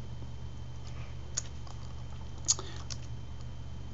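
Someone typing a command on a computer keyboard in Windows, a few faint scattered key clicks over a low steady background hum.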